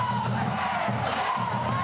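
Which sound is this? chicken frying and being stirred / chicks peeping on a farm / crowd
crowd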